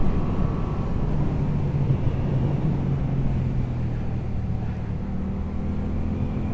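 A 2022 Yamaha MT-07 motorcycle engine drones steadily while riding in third gear on small roads, a continuous close rumble blended with wind noise, its tone rising slightly near the end.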